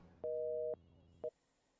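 A telephone busy signal sounds after a dropped call on a radio phone-in line: one long tone, a pause, then a short clipped beep, fairly quiet and alone.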